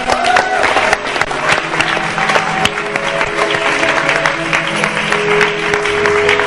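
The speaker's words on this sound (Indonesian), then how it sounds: "Tepuk tangan dong" Sustained, dense applause from a studio audience on an Indonesian variety talk show, steady and loud throughout with scattered sharp claps and faint voices mixed in.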